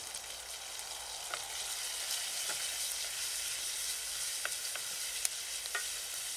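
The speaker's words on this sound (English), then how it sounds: "Now we melt the cured pork fatback." Cured pork fatback melts in a pan for a medieval chicken soup, making a soft, continuous sizzle and crackle with occasional small pops, fairly quiet and steady throughout.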